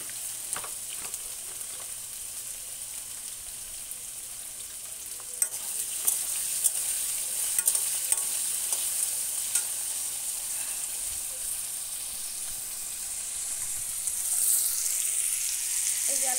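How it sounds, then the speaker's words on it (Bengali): Potatoes fry in a pan with a steady, even sizzle and occasional soft clicks from stirring, with no voices. "আলুগুলো একটু ভেজে নিই।"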